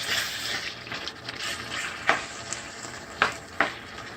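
Marinated boti kabob meat sizzling over high heat, a steady hiss of frying with a few sharper crackles and pops standing out, close and fairly quiet, no voices.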